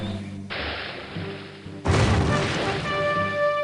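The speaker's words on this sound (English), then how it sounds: "Explosion, explosion." A booming explosion from the city-building video game Caesar 3 hits with a loud, sudden thud partway through, over a steady game backdrop of tones and noise.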